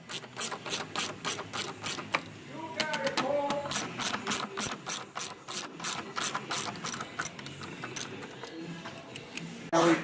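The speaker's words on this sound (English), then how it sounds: "there's two 10mm bolts, or it's also Phillips. So we're going to take these two out" A ratchet wrench clicks steadily while backing out two 10mm bolts from a GMC Terrain tail light assembly, close and crisp, with runs of rapid ticks broken by short pauses.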